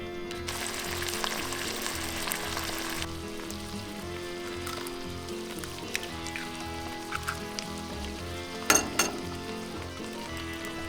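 Onion and meat fry on a five-burner Pit Boss flat top griddle with a steady, fairly quiet sizzle, a few close scrapes and clanks standing out near the end, and no talking.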